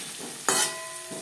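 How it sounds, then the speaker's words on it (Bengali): A dry-cut tomato drops onto onions that have fried for a few minutes in a pan for a flat bean stir-fry, setting off a sudden loud close sizzle that quickly settles into a softer hiss. "দু 3 মিনিট পেঁয়াজ ভেজে নেওয়ার পর দিয়ে দেবো একটা টমেটো।"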